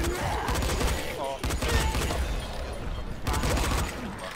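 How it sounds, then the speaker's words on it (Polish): Gunfire in the Dying Light video game, loud bursts of rapid shots broken by brief pauses, with someone talking over some of the shots. "Ale ja kocham do nich strzelać."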